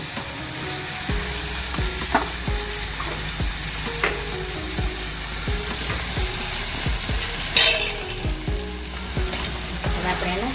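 Kantola (spiny gourd) frying in a pan with salt, turmeric, chutney and coriander-cumin powder, a steady loud sizzle broken by repeated scraping knocks as it is stirred.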